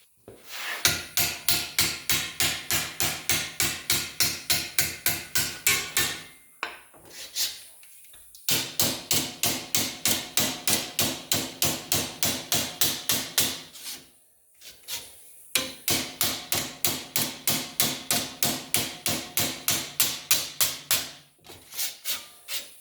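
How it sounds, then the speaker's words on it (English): Rusty sheet metal patch for a 1948-54 Chevy truck door being bent in a vise, a rapid run of sharp rhythmic strikes in three long bursts separated by short pauses, loud and close with no talk. "So I'm going to bend this up just by using the vise."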